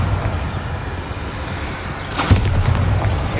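A Bombarda blasting spell detonates in the Hogwarts Legacy video game: a sustained, dense rumble with a sharp burst partway through, followed by heavier low booming and debris-like crackle.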